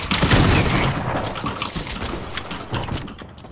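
A dense burst of gunfire in the Fortnite video game comes close and loud, with rapid overlapping shots and booms that fade into a rumbling tail.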